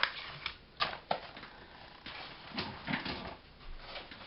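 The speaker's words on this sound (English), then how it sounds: "I'll gently tear that off" Paper being gently torn off by hand at a craft table, heard as a few soft, close ripping and rustling bursts spread unevenly across quiet moments.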